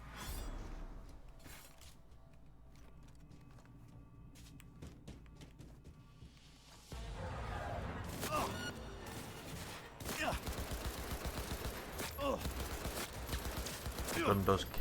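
Full-auto gunfire in Cyberpunk 2077 on the Switch 2, rapid bursts breaking out after a quieter stretch and continuing in dense volleys amid game effects, with a voice talking over it.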